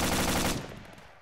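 Rapid automatic gunfire from the tactical shooter game Valhalla Tactical, a dense loud burst of shots lasting about half a second before dropping into a fading echo and quieter trailing noise.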